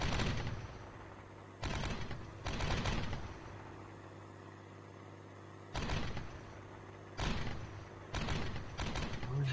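Heavy artillery in the Steel Beasts Pro tank simulator booms in several sharp, loud blasts, some in quick pairs, each trailing off over a low rumble.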